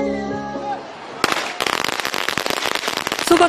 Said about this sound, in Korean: 소박한 폭죽으로 축제의 시작을 알립니다.